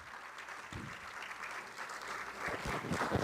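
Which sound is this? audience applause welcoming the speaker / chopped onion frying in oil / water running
audience applause welcoming the speaker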